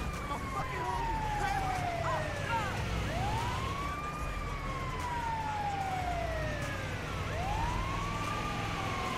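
An ambulance siren in the video game GTA 5 wails in repeated rising and falling sweeps over road noise, moderately distant, with faint talk beneath.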